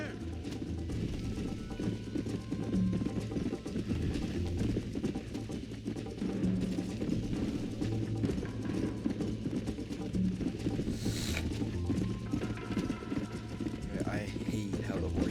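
Horse hooves clip-clop steadily in Red Dead Redemption, a continuous riding rhythm mixed with low game ambience and faint other noises throughout.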